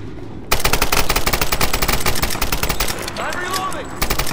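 Rapid automatic gunfire from the 2013 Tomb Raider video game, fired in a fast, steady burst after a brief quiet start, loud and continuous for about four seconds with some game sound effects layered in near the end.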